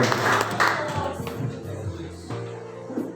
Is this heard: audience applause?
yes